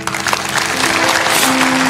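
Church congregation applauding during a sermon, a loud, close wash of many hands clapping with a faint sustained tone underneath, continuous for the whole stretch.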